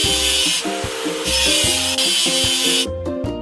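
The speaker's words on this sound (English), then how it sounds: "Let's get rid of the machine's rust." In a children's construction-machine cartoon, rust is scraped off a machine with loud, rhythmic rasping strokes in repeated bursts, then brief clicks as it ends.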